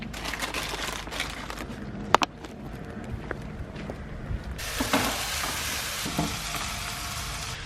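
Mexican rice with vegetables and chili powder frying in a pan in a large kitchen, a steady close sizzle with scraping stir strokes and a few knocks, the frying growing louder partway through.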